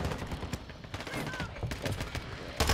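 Rapid gunfire from a Minibak submachine gun in a Modern Warfare match, bursts of close shots crackling continuously with game noise underneath.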